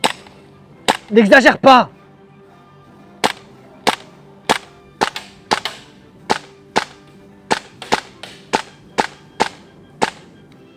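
KWA Kriss Vector airsoft replica firing semi-auto, a loud close run of about fifteen sharp cracks at irregular spacing, with a brief burst of speech near the start.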